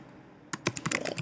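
Rapid clicking keystrokes on a computer keyboard begin after a quiet moment and continue in an uneven, busy rhythm, close and clear.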